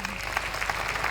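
Applause greeting guests of honor at a school alumni meet, a steady patter of clapping hands from an audience filling the brief moment without pause.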